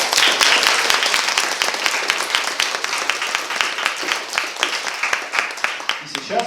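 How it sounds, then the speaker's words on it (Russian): Sustained applause from an audience at a young scientists' science slam, dense loud clapping filling the room, then thinning out near the end. "Еще раз громкие аплодисменты всем участникам"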